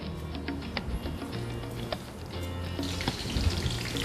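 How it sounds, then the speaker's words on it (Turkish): Breaded shrimp for tempura deep-frying in hot oil, a steady close crackling sizzle with scattered pops and ticks running throughout, with no voices. "Panelenmiş karideslerimiz derin yağda."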